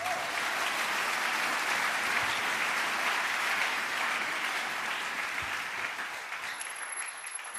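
Congregation at a church service acclaiming Jesus with enthusiastic clapping, a dense, even burst of applause that stays strong and then eases slightly toward the end, with no distinct cheering voices standing out.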